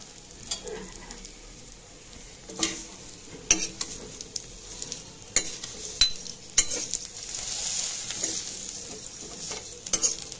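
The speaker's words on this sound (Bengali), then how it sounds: "বাট তা আমি একটু ঘি দিয়ে ভেজে নেব।" Vermicelli roasting in ghee in a pan, stirred with a utensil: a steady soft sizzle with repeated scraping strokes and light clinks throughout, fairly quiet and close, no voices.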